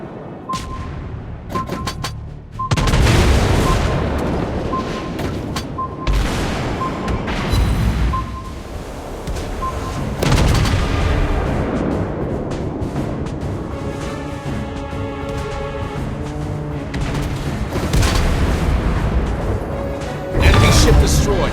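Torpedo hits and booming naval explosions in the mobile warship battle game World of Warships Blitz, loud and dense with repeated heavy blasts and rumbling impacts over game music and effects, a voice calling out briefly.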